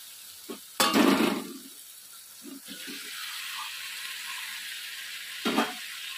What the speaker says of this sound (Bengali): এখন আমি মাংসটা এর মধ্যে দিয়ে দেবো।